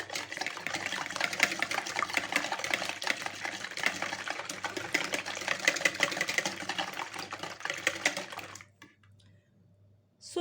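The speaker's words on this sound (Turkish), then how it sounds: "Kekli baklavanın kekini hazırlamak için kasenin içine yumurtamızı alıyoruz. Yumurtaları güzelce çırpıyoruz." Eggs are whisked briskly in a bowl for a baklava cake batter, a fast, dense, close clatter of rapid strokes that runs steadily for several seconds and then stops, with no speech.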